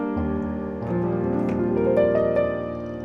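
A fast piano run, crossing hands, sweeps upward from F through a series of notes over sustained bass, ringing out clearly with no voices.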